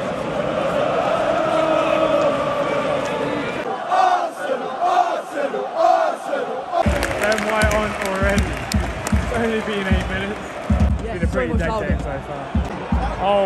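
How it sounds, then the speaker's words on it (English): Football crowd at the Emirates Stadium during Arsenal versus Sporting Lisbon, a loud sustained roar of voices that drops out briefly, then returns as rising, jeering noise with close shouts and chatter from nearby fans. "Hey, they're booing him."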